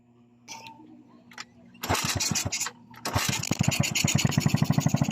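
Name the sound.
Rusi SC 125 scooter kickstarted, engine starting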